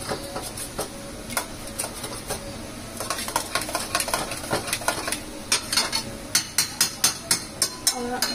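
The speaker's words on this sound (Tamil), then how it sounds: "மேஷ் மட்டும் பண்ணிக்கிறேன்." Cooked lentils (dal) mashed in a pot with a hand masher, giving a steady run of sharp metallic taps and clinks that grow louder and more regular toward the end, alone with no talk.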